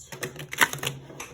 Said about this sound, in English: These are more tricky to shuffle, but I'm gonna do my best.